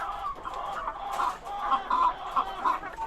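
Several chickens cluck in short, repeated bursts, fairly close, with a faint higher call mixed in and no talking.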